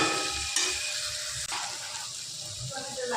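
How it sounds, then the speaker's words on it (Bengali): Okra stirred with salt and sugar in a hot pan, a steady sizzle with soft scraping and shuffling of the pieces, close and continuous. "এবার লবণ আর মিষ্টিটা ভেন্ডির সাথে হালকা করে নেড়ে নিয়ে"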